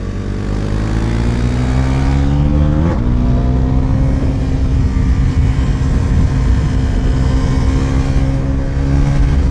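A Bajaj Pulsar NS400Z motorcycle rides hard on a track, a loud, close engine drone climbing in pitch as it accelerates, shifting gear near three seconds and then holding a steady, high-revving roar.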